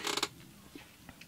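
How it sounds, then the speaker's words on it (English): An office chair creaking as someone shifts their weight in it, a short creaky burst at the start followed by a few faint ticks, close and quiet with no talking. "I moved in my chair, and I swear to God, I moved and my chair went, huh."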